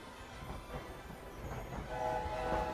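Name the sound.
train in the video game Hogwarts Legacy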